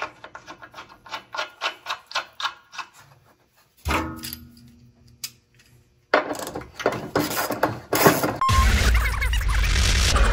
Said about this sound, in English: we'll tighten back our bolts again